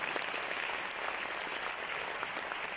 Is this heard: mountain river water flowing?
no